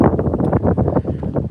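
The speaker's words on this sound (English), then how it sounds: "Sorry if it's a little windy out here." Wind buffets an outdoor microphone beside an original Corvette, producing loud, uneven low-frequency rumbling gusts that pulse throughout with no clear speech.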